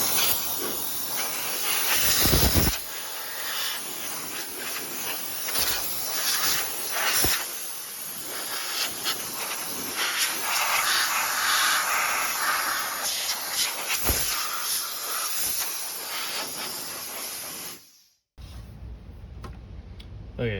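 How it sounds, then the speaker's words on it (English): Compressed air blasting dust out of an old Gateway computer found in a dump, a steady loud hiss with short bursts and sputters that runs nearly continuously before cutting off near the end. "Cleaned all the dirt best I could with the compressed air"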